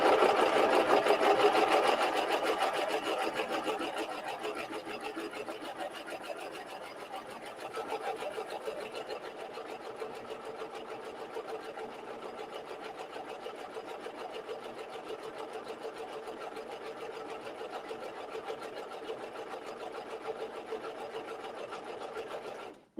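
A coverstitch machine sews a hem using woolly nylon thread, running steadily with a fast, continuous mechanical whir, louder at the start and then settling into an even hum, with no talk.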